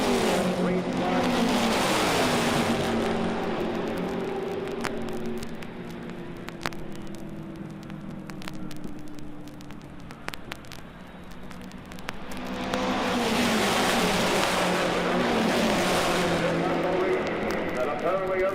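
Race cars at the 1963 Indianapolis 500 roar past in loud waves at the start and end, with a steady engine drone in between. An announcer talks throughout.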